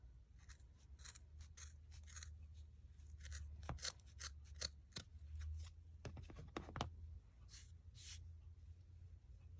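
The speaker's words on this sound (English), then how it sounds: "now you're going to trim them to make them even" Scissors snip through the loose threads of a craft tassel to even out the ends, a quick run of crisp, close cuts in irregular bursts over a low steady room hum, with no talking.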